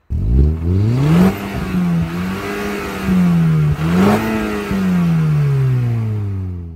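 An Audi S3's 2-litre turbocharged injection engine with variable intake timing revs up twice, rising and falling in pitch with a throaty turbo character, loud and close, then settles into a steady drone.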